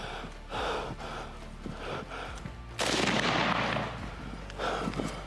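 Police gunfire aimed at a crossbow attacker during a street confrontation: one loud sharp broadband burst stands out midway amid tense, noisy surroundings, with smaller impacts and rustling before and after.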